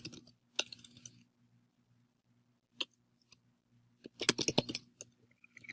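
Keyboard typing during a quiz-making screencast: a few short clustered bursts of keystrokes, then a longer flurry of rapid clicks, close and fairly quiet with pauses between.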